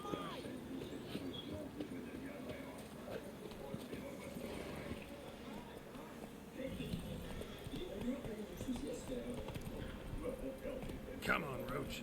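Hooves of Geralt's horse Roach in The Witcher 3 on PS5, a steady clip-clop of a riding horse under someone talking throughout.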